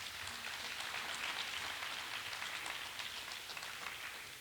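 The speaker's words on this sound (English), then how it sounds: "So give them all a round of applause." Audience applause at a California community college town hall, a steady dense patter of many hands clapping throughout, moderately distant and without talk.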